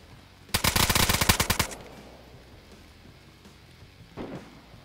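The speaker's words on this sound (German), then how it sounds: "Wir schießen hier mit der Schrotflinte" Shotgun fire in the video game DayZ: a rapid, loud burst of about a dozen shots in close succession, then quiet and one fainter report near the end.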